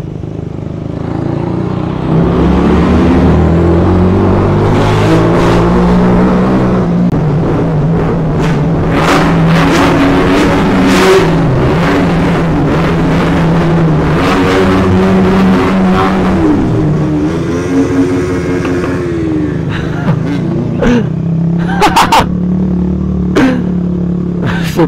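Car engine revving hard and continuously with crackling exhaust pops and bangs, loud and close, the revs rising and falling over about twenty-five seconds with sharp pops near the end.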